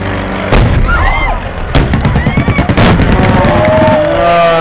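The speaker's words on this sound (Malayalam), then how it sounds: "മോസ്റ്റ്ലി അവർ താഴെ വരുമ്പോഴാണ് പടക്കം പൊട്ടുന്നത്" Firecrackers set off at an air show burst in a loud, dense rattle of cracks and pops, close and continuous, with faint voices and whistling streaks under the barrage.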